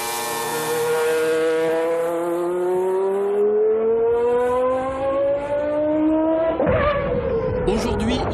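Renault Espace F1 fitted with a 3.5-litre Renault V10 Formula One engine, revving up in a long rising howl before a sharp burst of engine noise and tire sound near the end.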